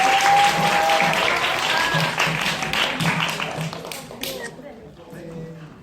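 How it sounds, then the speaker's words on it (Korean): An audience in a library talk event applauds to welcome a film's director and actors, loud clapping from many hands that fades out over several seconds while a host speaks. "박수로 맞이해 주세요."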